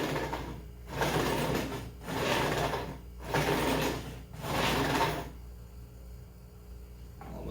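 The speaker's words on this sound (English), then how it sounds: "That's just grinding metal right there." Metal is being ground in four rough, rasping bursts of about a second each, close and fairly loud with short gaps between, followed by a quieter stretch at the end.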